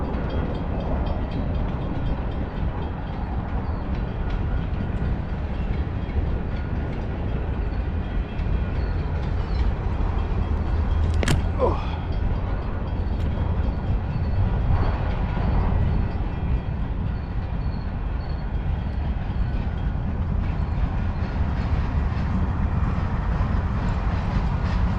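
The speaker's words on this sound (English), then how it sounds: "I missed the train." A train rumbles past steadily and loudly for the whole stretch on a walk through Dallas, with one brief sharp squeal partway through and no talking.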